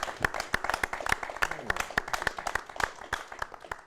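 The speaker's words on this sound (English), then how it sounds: "Would you please give Isabelle a huge big round of applause?" A studio audience at a live television show claps in a quick, even rhythm of sharp, distinct hand claps, close and moderately loud.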